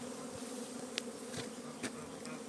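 Honeybees flying at a spring apiary, a dense, continuous buzzing hum from many insects with a few individual bees passing close, no voices.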